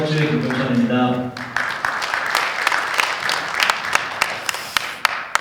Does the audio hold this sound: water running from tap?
no